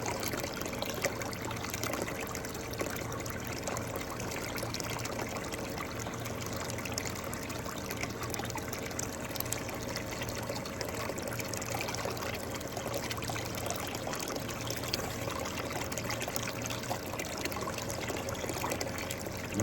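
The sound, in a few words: water flowing through a gold cleanup sluice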